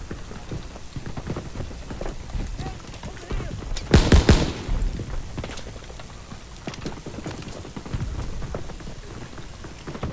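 Gunfire in Call of Duty WW2 with scattered rifle and automatic shots over battlefield ambience, a loud close burst of heavy reports near the middle, and lighter rapid cracks continuing around it.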